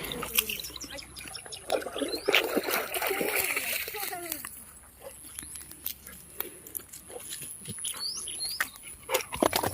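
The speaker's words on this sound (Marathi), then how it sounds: "गोल्डनने पाणी बघितल्यावरच तो पोहायला सुद्धा लागलेला आहे" A dog swims in dam backwater, churning up repeated close splashes and sloshing that continue in bursts throughout, with people talking over the water sounds.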